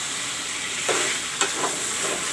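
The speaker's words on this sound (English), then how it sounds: "you can see the chicken frying" Chicken frying in a pan with Kashmiri mirch powder, a continuous hiss of sizzling oil broken by a few scraping stirs, close and alone.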